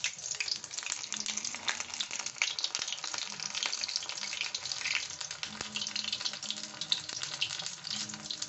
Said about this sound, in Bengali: ডুবিয়ে আমি এই ব্যাটারে ডুবিয়ে এটা ভেজে নেব। তেল দিয়ে দিয়েছি, তেল গরম হয়ে গেছে